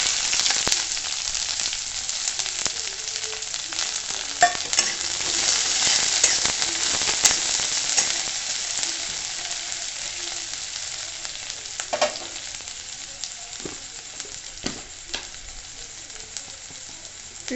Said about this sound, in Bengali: এখন এই যে পেঁয়াজ কুচিগুলো দিয়ে দেবো